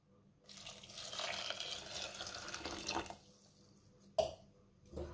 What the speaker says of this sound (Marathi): आता ह्यामध्ये पाणी घालूया,